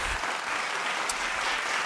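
Applause from a recorded crowd, a dense, even wash of clapping that stays steady and fairly quiet across the short stretch, heard without any talking.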